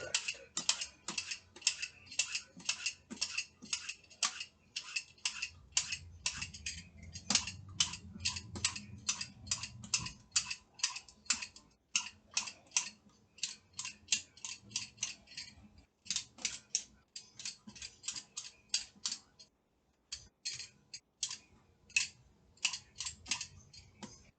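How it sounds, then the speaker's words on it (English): A zucchini is peeled with a steady series of close, sharp scraping clicks in quick rhythm, with a brief pause partway through before the strokes resume. "peeling the zucchini"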